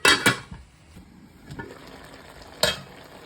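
A spoon stirs boal fish curry with fresh beans in a cooking pot, giving a few sharp scrapes and knocks against the metal over a soft bubbling simmer, with no talking.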